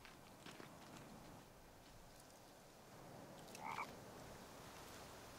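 A frog croaks once, brief and distant, beside a pond in the survival game The Forest, rising over steady outdoor ambience with faint footsteps.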